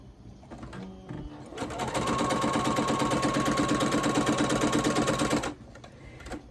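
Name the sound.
sewing machine stitching quilt pieces corner to corner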